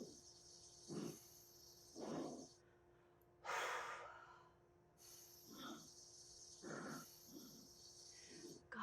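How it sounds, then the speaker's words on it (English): Slow, heavy breathing of an astronaut inside a spacesuit from 2001: A Space Odyssey (1968), with hissing inhales and exhales repeating in a measured rhythm, each separated by short quiet gaps over a faint steady hum. "just hearing that breathing"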